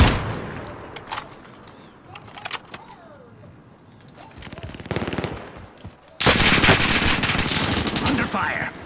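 Gunfire in Call of Duty: Modern Warfare starts with scattered shots and clatter, then a loud, sustained burst of rapid automatic fire breaks out and roars on for the final few seconds.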